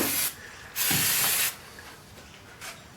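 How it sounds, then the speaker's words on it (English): Brake cleaner sprayed onto the engine pulleys of a Toyota Starlet EP91: two close hissing bursts, the second longer, followed by a faint short puff. "Where I spilt the oil, bit of brake clean on the pulleys"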